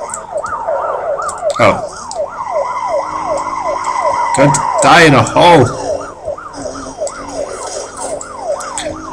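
Police car sirens from the racing game Need for Speed: Most Wanted wail in fast repeating sweeps, loud and close, broken by crash-like bursts midway while a player speaks briefly over them.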